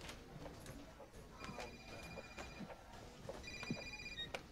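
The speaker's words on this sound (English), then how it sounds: "That's the second time Fusco sent me to voicemail." A telephone rings in a TV drama scene, a faint electronic ringtone chirping repeatedly under low background noise and quiet voices.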